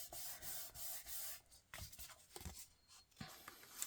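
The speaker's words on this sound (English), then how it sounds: "I'm gonna put a piece of this right up against the edge and fussy cut it right off" Paper being fussy cut against an edge during card making, heard as quiet, close rubbing and scraping strokes in irregular bursts with short pauses between them.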